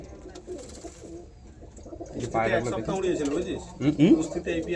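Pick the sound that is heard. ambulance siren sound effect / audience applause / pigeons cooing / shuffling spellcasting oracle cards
pigeons cooing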